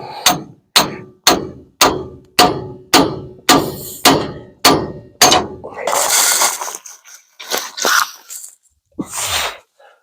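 A hammer strikes a pickle fork on a 1950 Ford F truck to free a bent center link, giving about a dozen loud, evenly spaced metallic blows up close, followed by a clattering, scraping stretch and a few looser knocks.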